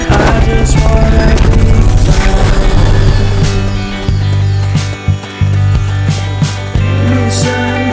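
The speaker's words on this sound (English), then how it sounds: "Recovery subject confirmed onboard helicopter." Fulton recovery helicopter in Metal Gear Solid Peace Walker, heard as a loud, dense game soundscape with steady low droning tones and rhythmic mechanical thumping, punctuated by brief dropouts and sharp hits toward the end.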